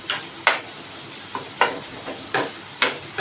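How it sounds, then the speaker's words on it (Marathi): Kachori filling with dry fruits being sautéed in a pan, with a spatula scraping and stirring in irregular strokes over a faint background sizzle. "आता आपण हे परतून घेऊया थोडं हलकं त्याच्यामध्ये मी ड्रायफ्रुट्स टाकले"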